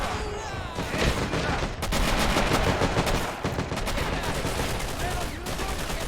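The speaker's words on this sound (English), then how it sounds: "20mm was firing there." Dense battlefield gunfire in Men of War: Assault, including 20mm cannon fire, sounds during the final battle of Iwo Jima, with continuous overlapping shots and bursts at loud, steady intensity.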